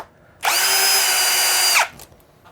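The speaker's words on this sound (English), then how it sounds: "my screwdriver died, but we do have one with a clutch" An electric screwdriver with a clutch drives screws into an Xbox Series S, letting out a single loud, high-pitched whirring burst of about a second and a half that starts and stops abruptly, close to the microphone.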